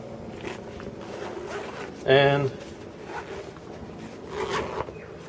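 A Vertx EDC Ready Pack zipper being pulled open gives a short, bright ratcheting zip lasting about half a second, close up, while someone talks over handling noise.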